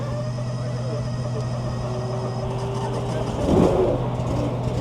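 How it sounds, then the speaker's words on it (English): A gas-engine firewood splitter cranks and catches on a cold morning of about 30 degrees, a steady low engine hum building to a louder burst of revving near the end. "The first split of 400 with the gas engine. And I think I'm going to start it and let it warm up."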